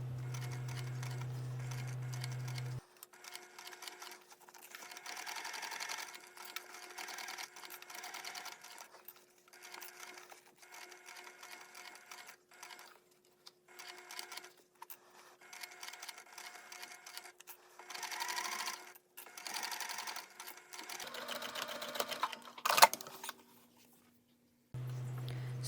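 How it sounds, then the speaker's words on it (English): A sewing machine stitches a bag's front panel to its gusset at a quarter-inch seam allowance, running in short, uneven bursts with brief stops between them as the fabric is guided around curves, fairly quiet and close, with no talking. "Sew the front panel to the gusset using a 1/4 inch seam allowance"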